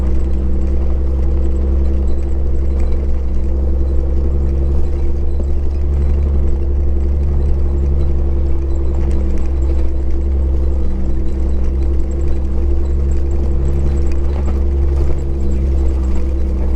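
A Jeep engine pulling in first gear on a dirt road, a loud, steady droning rumble with a constant low hum running throughout, no talking.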